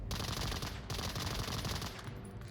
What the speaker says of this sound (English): so utility nades coming in. Suppression comes through, and Jerp finds the 4-piece